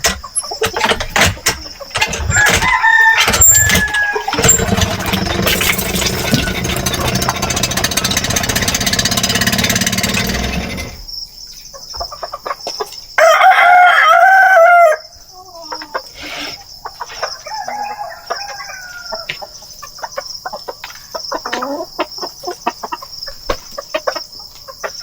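Native chickens in a Philippine backyard farm, with close clucking and squawking bursts, a rooster crow in the middle, and scattered calls against background noise and chirping insects.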